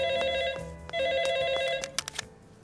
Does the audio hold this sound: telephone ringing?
yes